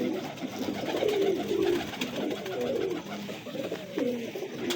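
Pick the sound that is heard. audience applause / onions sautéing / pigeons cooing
pigeons cooing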